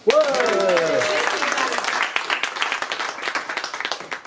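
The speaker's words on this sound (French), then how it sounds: "Vous pouvez l'applaudir." Applause from the audience at a slam poetry evening in Cannes rises to a loud burst of clapping, then thins toward scattered claps while a voice sounds briefly near the start.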